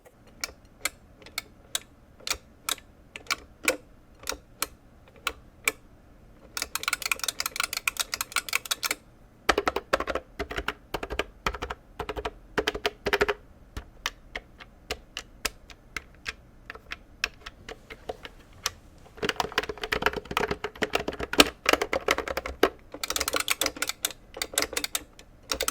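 Clicking from the buttons and joystick of a Nyga CN arcade fight stick: rapid, sharp taps in irregular bursts, sometimes sparse single clicks and sometimes dense flurries, close and fairly loud with no talk.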